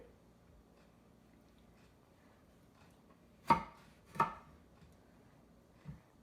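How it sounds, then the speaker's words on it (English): A knife cuts through a lemon in a kitchen setting with two crisp, close chopping thuds in quick succession and a fainter third cut a moment later, over an otherwise quiet background. "now we're going to cut our lemon"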